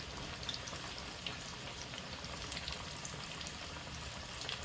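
Chicken pieces frying in hot oil give a steady, even sizzle, fairly quiet and unbroken, with faint popping spatters throughout.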